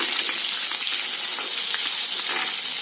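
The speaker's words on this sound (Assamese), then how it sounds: "অকণমান সময় বিলাহীকেইটা ভাজি ল'ম" Steady, dense sizzling of tomatoes frying in hot oil, close and continuous with faint crackles throughout.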